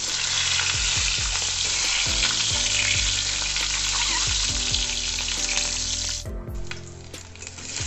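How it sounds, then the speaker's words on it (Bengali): Eggs frying on low heat in mustard oil in a kadai, a loud, dense sizzle up close with a few low knocks and scrapes, easing slightly toward the end. "ডিমগুলো আমি কম আঁচে ভালোভাবে ভেজে নেব"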